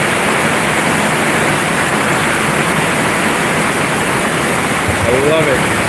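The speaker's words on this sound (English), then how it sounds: "It is fucking pouring out now." Heavy thunderstorm rain pours loudly and steadily onto a roof, a dense unbroken roar heard close from underneath.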